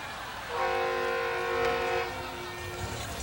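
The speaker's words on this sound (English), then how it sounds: "This is Al Pearson's train" A train horn blows one sustained, steady chord of a couple of seconds, fairly loud over a low rumble, then fades back into the background.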